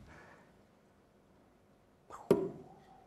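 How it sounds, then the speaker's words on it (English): A heavy cannonball drops into a heavy liquid in a science lecture demonstration, giving a single sharp splash-like impact after a quiet, faint-hiss stretch. "Heavy cannonball meet heavy liquid."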